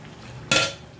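Chicken for biryani being stirred in a cooking pot, a single short metallic scrape and clatter of a utensil against the pot, close and fairly loud over a quiet sizzle.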